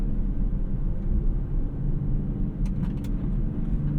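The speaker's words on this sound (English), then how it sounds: "I'm gonna be kicking up a lot of rocks, as you may have just heard." A 2024 Nissan Z Nismo on grippy 19-inch tires gives a steady, low road rumble from inside the cabin. A few sharp ticks of gravel hitting the car are heard near the end.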